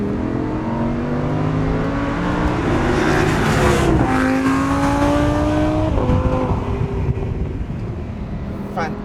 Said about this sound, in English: So we are talking about a seriously quick car, one that sounds pretty tasty too.